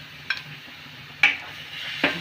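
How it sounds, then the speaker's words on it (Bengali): Grated beetroot being stirred into fried onion and garlic in a pan, a few sharp scraping strokes of the spoon over a soft background sizzle. "বিটটা দিয়ে আমি খানিকক্ষণ কিন্তু পেঁয়াজ রসুনের সাথে ভালো করে মিশিয়ে নেব একটু"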